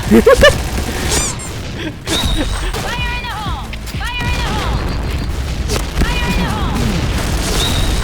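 Game explosions and gunfire in the online shooter Point Blank boom loudly at the start, followed by repeated whooshing and chirping effects as a player talks throughout.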